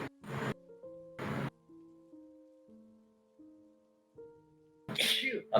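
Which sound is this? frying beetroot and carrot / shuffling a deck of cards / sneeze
sneeze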